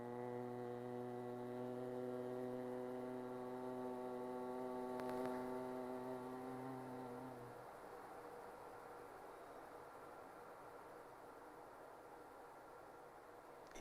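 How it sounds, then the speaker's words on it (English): A steady, deep nasal hum of Bhramari pranayama breathing during a slow exhalation in a live yoga session, sustained for about seven seconds before fading into quiet breath and room tone. "during the exhalation, slowly make a deep humming sound"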